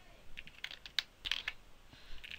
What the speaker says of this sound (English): just in here we are going to type the words